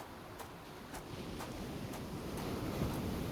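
Gusting wind in the video game Hades blows as a steady broadband roar with a faint rhythmic ticking, loud and continuous throughout, with no talk.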